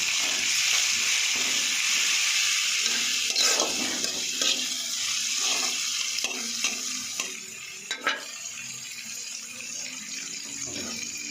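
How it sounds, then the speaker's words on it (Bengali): Garlic sizzling in hot oil in a frying pan along with cumin and onion, a steady bright crackling hiss broken by soft scraping stirs, with a brief clatter near the end. "বন্ধুরা আমি একটু রসুন দিয়ে দিলাম।"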